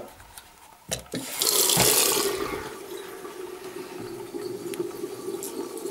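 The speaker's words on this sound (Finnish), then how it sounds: "Ota hana päälle sieltä." Water gushes from a tap after a couple of faint knocks, starting as a loud splashing rush and then settling into a steady running flow.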